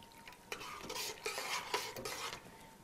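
A spoon stirs a pot of West African pepper soup after homemade brown stock is added, giving soft, repeated scraping and sloshing strokes, faint and with no talk.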